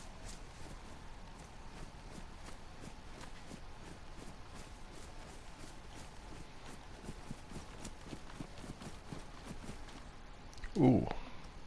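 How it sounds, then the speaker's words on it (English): Deer hoofsteps in the DayZ video game sound as a short, close clatter of hooves near the end, after a long stretch of quiet ambient game background. "I can hear deer."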